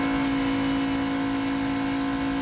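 Stock cars roar side by side at Michigan International Speedway, a loud, steady engine drone holding one sustained pitch throughout with no letup.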